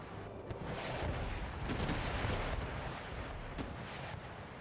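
Broadside of ship cannons firing in Empire: Total War, a rolling barrage of deep booms and cracks overlapping for several seconds at moderate distance.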